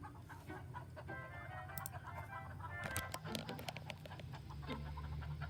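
Chickens cluck and squawk softly at a school, a scattered flock murmuring low and faint beneath a steady background hum.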